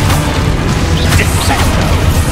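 A Confringo blasting spell in Hogwarts Legacy erupts into a brief, loud, continuous boom with a rumbling low-end crash and fiery crackle, dense and close throughout.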